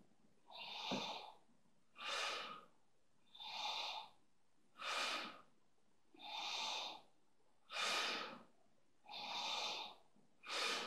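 Bhastrika pranayama breathing, close and forceful, moves air in strong, even, rhythmic bursts, about eight breaths in quick succession with short pauses between them.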